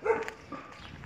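A dog gives a short bark close by in the historic centre of São José, then soft yips and whimpers follow, brief and moderately loud.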